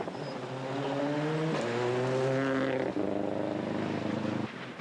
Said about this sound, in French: Peter Tchun va ressortir de ce guet sur 3 cylindres